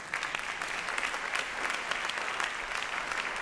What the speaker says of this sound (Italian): un applauso a Cristiano